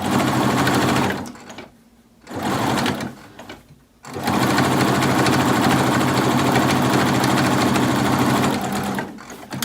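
A sewing machine runs loud and close while batch sewing cloth face masks, one piece after another, in long steady stretches broken by two brief pauses.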